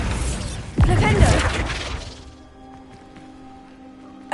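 A Flipendo knockback spell strikes a target in Hogwarts Legacy with a sharp, loud whack and crashing burst, followed by a fading rumble and quiet game ambience.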